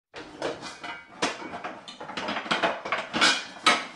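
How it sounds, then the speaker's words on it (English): Kitchen utensils clattering in the video game Five Nights at Freddy's: repeated irregular metallic clanks and rattles of pots and cutlery, moderately loud and continuous for several seconds, with no voices. "kitchen utensils clattering."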